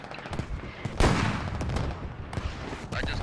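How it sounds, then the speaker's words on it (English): Mortar fire in the Squad video game, with rounds landing near a T-62 tank: a heavy blast near one second, then repeated booming impacts and crackling gunfire-like bursts in a steady loud battlefield din. "Mortars landing still in the area of our leftmost T-62"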